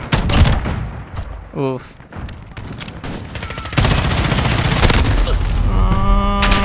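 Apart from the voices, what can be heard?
gunfire in Call of Duty: Modern Warfare video game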